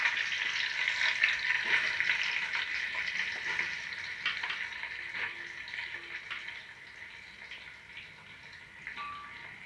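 Sliced onions, cut lengthwise for chicken biryani, frying steadily in a pan with a continuous broad sizzle, a few faint scrapes of a stirring spoon, and no talk.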